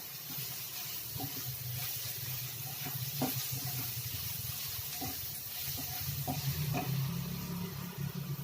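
Chopped onion frying with a pinch of salt in a hot pan, a steady close sizzle and hiss running throughout with occasional small pops and crackles, no voices.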